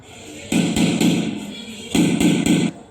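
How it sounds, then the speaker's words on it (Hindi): At a Christmas celebration play, someone knocks on a door in two bursts of three firm, evenly spaced raps over a steady background hum. "यूसुफ और मरियम आगे निकलकर अगले दरवाजे पर खटखटाते हैं।"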